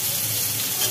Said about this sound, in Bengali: উচ্ছেটা ভেজে নাও